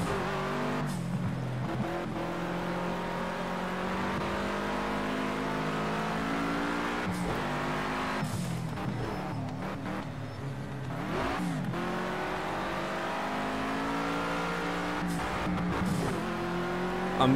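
Race cars battling in Project Cars 2, with layered engines droning and revving continuously, rising and falling through gear changes, occasional tire squeals and brief loud passes, dense and steady throughout.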